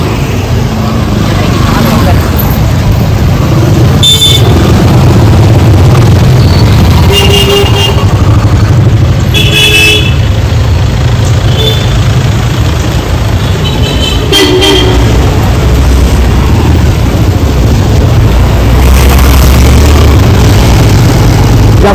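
A vehicle drives off at a street gathering in Adirampattinam with its horn tooting, under loud crowd noise and nearby talk, and the engine rumbles throughout.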